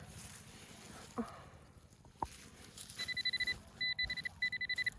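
Repeated electronic beeps in short bursts, a metal detector chirping several times in quick succession over low outdoor rumble.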